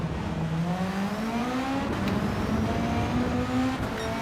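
A Volkswagen Beetle in Gran Turismo 7 races with its engine held at a steady, high-pitched drone that climbs slowly, dips briefly and rises again, loud and close throughout with no voices.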